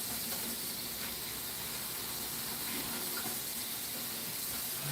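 Water running from a tap to fill a canning water bath, a faint steady hiss of flow that continues evenly without pause, no talking.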